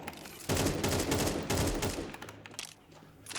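Rapid AK rifle gunfire in a first-person shooter game on a PC, a dense burst of automatic shots lasting a few seconds then tapering into scattered pops, loud and close with no talk.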